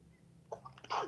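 A single close sneeze bursts out after a quiet moment, a short sharp inhale-and-blast with a breathy tail, in a quiet room during a chess lesson.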